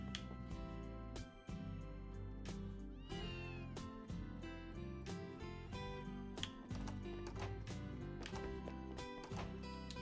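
A cat meows in a video game (Ys I & II), standing out against continuous game music with layered tones and percussive hits throughout.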